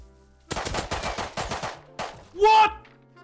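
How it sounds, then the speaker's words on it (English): A rapid burst of video game gunfire cracks out in quick succession, followed by a louder blast-like noise; sharp, punchy, fairly close. "There's gunfire outside."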